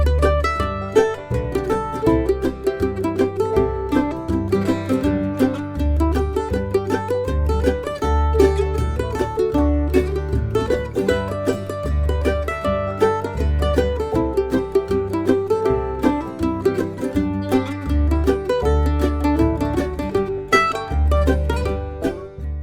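A mandolin plays a melodic variation of the bluegrass song Bury Me Beneath the Willow, with quick picked notes, repeated notes, slides and hammer-ons in a steady rhythm, close and clear with no talking.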